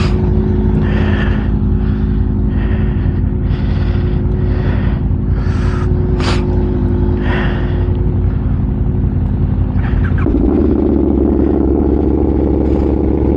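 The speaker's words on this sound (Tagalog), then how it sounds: "2-cylinder to pero cross plane engine yan, kaya iba yung tunog" A Yamaha MT-07 two-cylinder crossplane motorcycle engine blips through several sharp, close revs over a loud, throbbing idle, then settles into a deeper, rougher steady run at the end.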